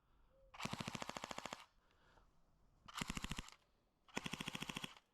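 An airsoft gun firing full auto at about 7 rounds per second, three sharp rapid bursts of clicking shots up close, separated by short pauses.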